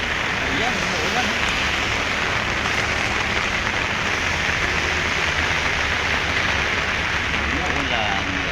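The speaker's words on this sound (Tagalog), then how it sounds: "Ayan, umuulan." Steady rain pours down outdoors during an aircon installation, a dense, loud hiss of drops on surfaces that continues unbroken, with people talking underneath.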